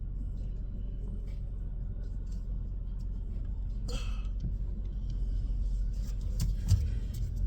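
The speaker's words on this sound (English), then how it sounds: "I think this truck is stuck here." A stuck truck idling on the road, a steady low engine rumble running throughout, with a brief hiss and a few faint clicks and clanks near the end.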